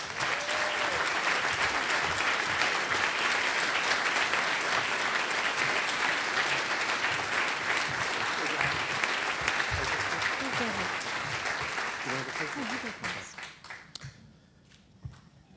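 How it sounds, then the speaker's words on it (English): Sustained applause fills the hall at an academic forum on communications, technology and government, an even wash of many hands that thins and dies away near the end, leaving a few last claps. "receive a well-deserved round of applause"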